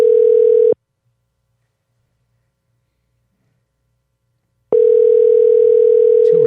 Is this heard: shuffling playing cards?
no